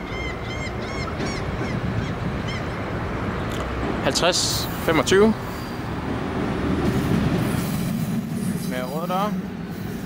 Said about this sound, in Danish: Her har vi IC3-toget.